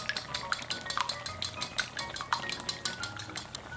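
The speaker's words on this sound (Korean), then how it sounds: "달걀 2개를 풀어주세요" Two eggs are beaten in a bowl, making a quick, even run of light clinks and taps from the utensil, steady and fairly quiet up close.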